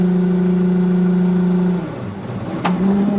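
A new tractor engine runs at a steady hum, drops off briefly near the end with a sharp clunk, then picks back up, close and loud.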